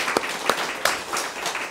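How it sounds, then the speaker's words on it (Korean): A church congregation gives a brief round of applause at a Sunday morning service, with a few distinct louder claps standing out over a soft, diffuse patter of hands. "예수님께도 다시 한번 영광의 박수를 드립니다"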